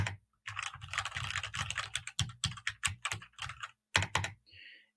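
Rapid bursts of clicky keystrokes on a springy, solid gaming keyboard, close and clear, with short pauses between runs of typing.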